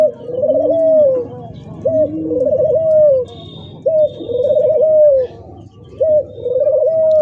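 Pigeons at a market coo loudly and close in repeated rolling phrases, several bursts in a row with short pauses between, and a faint high chirp briefly in the background.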